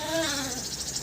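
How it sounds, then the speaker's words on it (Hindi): A young lamb, kept among sheep and other livestock, lets out a single wavering bleat close by, fading after about half a second into faint background noise. "ये भेड़ का बच्चा है जी"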